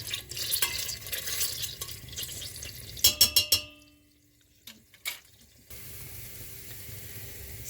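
Tomato and pepper paste being mashed and stirred into melted butter in a pan, a soft sizzle with scraping spoon strokes and a few sharp clinks against the pot, no talking.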